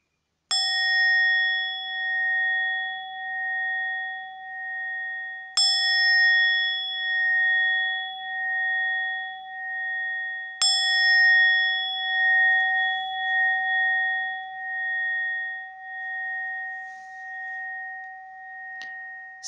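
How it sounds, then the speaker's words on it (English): Meditation bell struck three times at even intervals of about five seconds, each a clear bright ring that sustains and slowly fades before the next, in otherwise silent surroundings. "the meditation will start with 3 rings of the bell"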